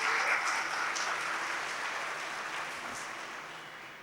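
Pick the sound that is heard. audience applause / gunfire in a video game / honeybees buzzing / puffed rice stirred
audience applause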